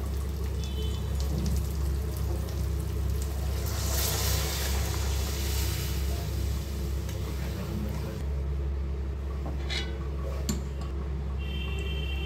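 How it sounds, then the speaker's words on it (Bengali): Water poured onto rice frying in a pan for chicken polao brings a loud, rushing hiss like heavy rain that swells and then settles into a steady simmering sizzle. "এখন দিয়ে দেব জল।"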